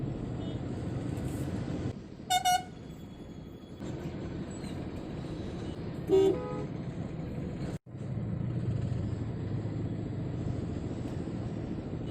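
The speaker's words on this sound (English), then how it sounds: "The crazy traffic." Busy, congested road traffic with a steady low rumble of engines, broken by two short car-horn honks a few seconds apart and a brief cut in the sound partway through.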